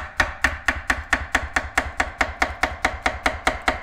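A knife thinly slices a banana on a cutting board, about fourteen crisp, evenly spaced knocks in a quick rhythm, close and clear with no voices.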